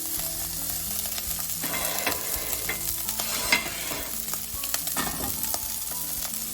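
Langoustines pan-frying in olive oil in a sauté pan, a steady close sizzle with bursts of crackle and occasional stirring scrapes, no voices.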